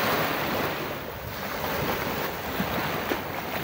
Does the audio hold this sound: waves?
yes